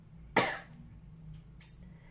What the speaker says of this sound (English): It really makes me, it made me cough.